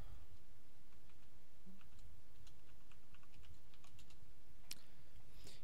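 Keys click on a computer keyboard as a password is entered, a sparse run of soft, close taps with uneven gaps, faint and alone in a quiet room.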